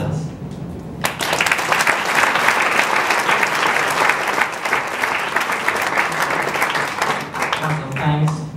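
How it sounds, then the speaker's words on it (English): A large audience applauds at a student representative's speech for an English teaching access program, a dense, steady round of clapping that starts abruptly and holds for several seconds before tapering, with a voice resuming at the end. "Please join me in giving the round of applause for all of those who have supported"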